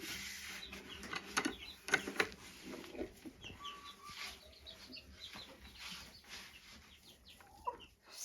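Hens on a small farm cluck softly in scattered, irregular bursts, fairly faint and close, with quiet rustling and light background noise between calls.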